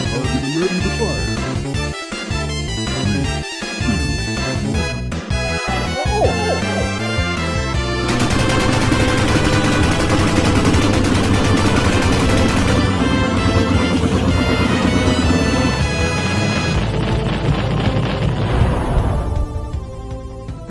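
Video game gunfire aimed at zombies comes as sharp shots and bursts, loudest in the opening seconds, then blends into dense, loud game music and effects, with a voice talking at times.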